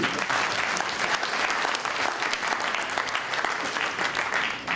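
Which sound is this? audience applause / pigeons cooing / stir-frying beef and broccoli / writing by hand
audience applause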